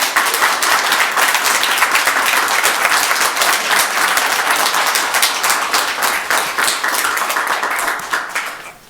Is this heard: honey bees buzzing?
no